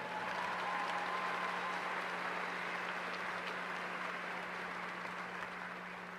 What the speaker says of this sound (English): Let us give our seniors a round of applause for all their hard work.